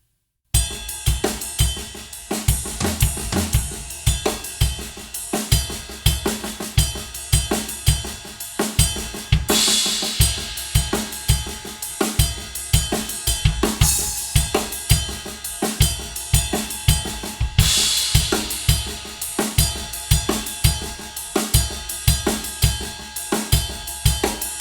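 Full drum kit pounding through a fast groove section at full tempo, dense steady kick and snare hits under constant bright cymbal wash, loud and continuous with no talk.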